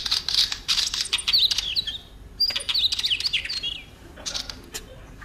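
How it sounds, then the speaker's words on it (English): Northern wheatear song: bursts of scratchy, high chirps and warbling phrases in several clusters separated by short pauses, fairly close and clear with no talking. "It's a wheat ear."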